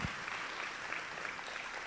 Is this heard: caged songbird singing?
no